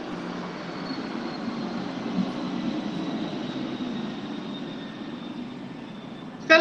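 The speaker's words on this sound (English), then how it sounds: "Is that like an aeroplane?" An aeroplane passes outside a hostel, a steady broad low rumble holding throughout at moderate distance with a faint thin whine above it.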